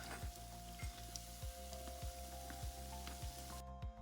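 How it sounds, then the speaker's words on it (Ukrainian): Steady sizzling of small dough pies frying in hot oil in a pan, with a faint rhythmic scraping or stirring repeating about every half second, close by and without speech. "Які апетитні пиріжки сьогодні смажу."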